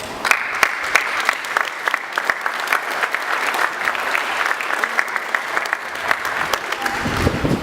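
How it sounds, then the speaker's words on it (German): A crowd at a topping-out ceremony for a rescue and emergency services centre claps for several seconds, sharp individual claps over a dense wash that fades out near the end. "Ich denke, das ist auch wirklich ein Applaus wert."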